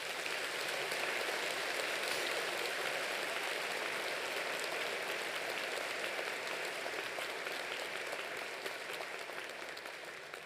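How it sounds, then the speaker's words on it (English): A convocation audience applauds university staff in a large hall, a broad, sustained wash of many hands clapping at steady volume for about ten seconds, tapering slightly at the end, with no talk over it. "Please give a round of applause to our staff."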